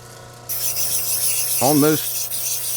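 A jade stone is ground into a shallow dome, giving a steady, bright hiss of abrasive grinding that starts abruptly and runs continuously, with a brief rising squeal partway through.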